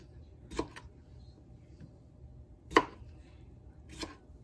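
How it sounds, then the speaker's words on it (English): Cucumbers being sliced for quart-jar refrigerator pickles, three sharp isolated knife cuts against a board spaced a second or two apart over a quiet background, close by. "So I am gonna cut these pickles just in slices for the quart jars."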